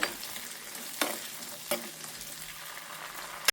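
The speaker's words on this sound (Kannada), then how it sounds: "ಈಗ ಇದನ್ನು ಎಣ್ಣೆಯಲ್ಲಿ ಚೆನ್ನಾಗಿ ಫ್ರೈ ಮಾಡ್ಕೊಳ್ಬೇಕು." Crushed gulla brinjal seeds frying in oil on a tawa, a steady soft sizzle broken by two sharp stirring scrapes.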